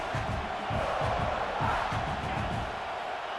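Stadium fans in the EA Sports College Football 26 game roar steadily, a thick wall of crowd noise with pulsing low chant beats, loud and unbroken.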